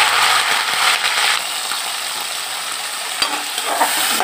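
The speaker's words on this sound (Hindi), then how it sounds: "अब इसमें मैं मटर और आलू को अच्छे से फ्राई करूँगी।" Peas and potatoes with cumin sizzle in a pan with a bright, steady frying hiss, close up, with occasional clicks and scrapes from stirring.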